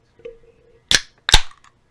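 A Husaren Trunk holiday beer can is cracked open close up: two sharp, loud snaps about half a second apart, with a faint hiss trailing after them, and no talking.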